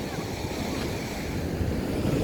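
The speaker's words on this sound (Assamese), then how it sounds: "ডাঙৰকৈ ঢৌ আহিলে চাগে ইমান মানলৈকে উঠি আহে পানী" Sea waves break and wash up on Alappuzha beach, a steady roar of surf with wind rumble across the microphone, loud and continuous from start to end.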